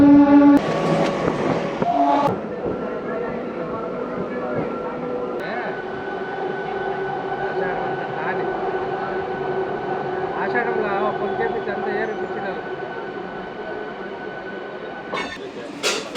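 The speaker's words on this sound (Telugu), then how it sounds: "బయ్యప్పనహల్లి స్టేషన్కి మన ట్రైన్ చేరుకుంది" MEMU passenger train pulling into Bayyappanahalli station on the Anantapur to KSR Bengaluru run, heard from on board as a steady rumbling, whining run with brief louder bursts, and a voice speaks over it.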